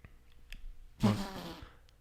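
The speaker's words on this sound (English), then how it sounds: "I had to let a belch" A single loud, rough belch after drinking Diet Coke bursts out midway, close to the mic, then trails off into quiet room noise.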